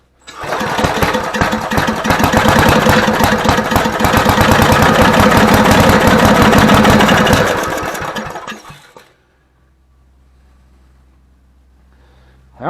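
A Briggs and Stratton 7HP generator engine runs loud and close with a fast, rough rhythmic chatter for about eight seconds, then cuts out and winds down into near quiet.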